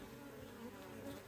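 Honeybees swarm thickly around a hive while nucs are moved into 10-frame boxes, a dense, steady buzzing held close and loud from start to finish.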